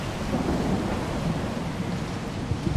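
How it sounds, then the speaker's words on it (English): A thunderstorm in the video game STALKER 2 rumbles low and continuous, with steady rain hissing on surfaces and a constant, dense wash of noise throughout. "Cool storm though"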